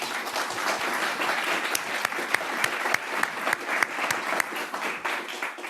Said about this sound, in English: I just want to give them all a round of applause.